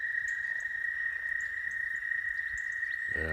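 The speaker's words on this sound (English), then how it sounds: "Frogs are really going at it today." A pond frog chorus trills as a constant high drone for about three seconds, fairly close and even, with only a hint of a voice starting at the very end.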